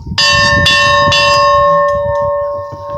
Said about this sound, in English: Right, I'm going to ring the bell